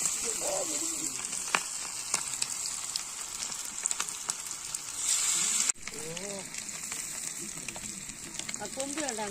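Frog leg pieces fry in hot oil in a village-style outdoor cooking setup, giving a loud, steady hissing sizzle that briefly flares up before settling, while someone talks over it.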